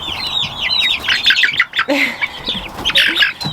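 Three-week-old chicks in an outdoor brooder coop chirp continuously in dense, overlapping high peeps, close and loud, with a few lower clucking notes mixed in.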